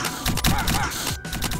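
A short, harsh burst of crackling, clattering failed spell cast noise from Realm of the Mad God, dense and loud, with a brief dip partway through.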